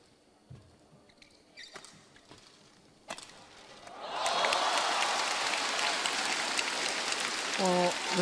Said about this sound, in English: the crowd here at the Coliseum in Hong Kong are doing all they can to try and lift the spirits of Wang Shixian